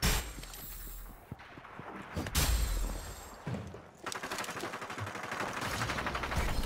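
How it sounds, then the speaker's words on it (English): Rapid gunfire from the video game Hyper Scape, with dense bursts of shots and booms that pause briefly and then resume, loud and close, with no voices. "I just got sniped from behind."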